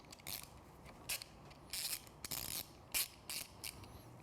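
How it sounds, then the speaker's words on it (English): Ratcheting clicks from a 6mm Allen hex bit loosening screws while retro headlight ears are fitted on a Triumph Street Twin motorcycle, short uneven bursts of close mechanical clicking with brief gaps between. "Now you want to loosen these screws with a 6mm Allen hex bit."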